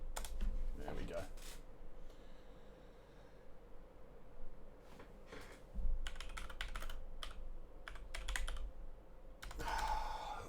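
Several people type on computer keyboards during an online esports qualifier session, with bursts of rapid clicking keystrokes that come and go under a steady background hiss.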